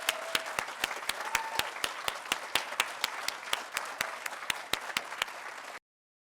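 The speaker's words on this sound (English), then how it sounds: "Let's give them one final round of applause." A small audience at a 2021 senior school closing ceremony claps for students, with sharp individual claps in a quick, fairly even rhythm and no voices over them, ending abruptly.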